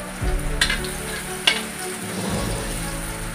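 Garlic sizzles and fries steadily in a hot pan, with a couple of sharp stirring clinks near the start and a constant crackling hiss throughout.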